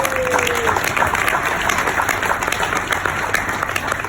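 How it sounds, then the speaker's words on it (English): A crowd of volunteers at an appreciation dinner for Hohokam Park applauds, a dense, sustained wash of clapping heard from within the room. "Give yourselves a big round of applause."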